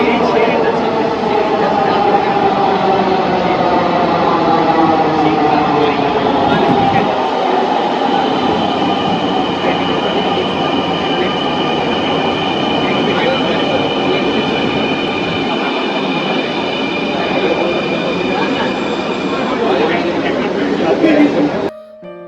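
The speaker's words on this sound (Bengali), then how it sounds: "এই যে আমার মেট্রো আসছে" A metro train pulls into an elevated station platform in Bangladesh, a loud continuous rumble with rising and falling tonal whine building over about twenty seconds, with voices heard throughout before the noise cuts off.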